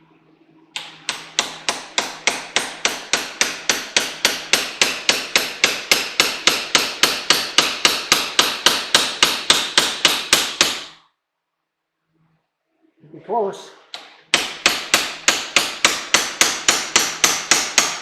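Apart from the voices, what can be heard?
hammering crown off VHS player part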